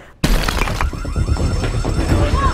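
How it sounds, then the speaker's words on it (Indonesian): A loud explosive boom in a superhero action film bursts from outside after near silence, followed by sustained crashing, debris and crackling rumble that fills the rest of the scene. "Lalu tiba-tiba terdengar suara meledak dari luar."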